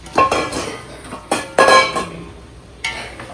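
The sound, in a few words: sautéing carrots and beans with masala in a pan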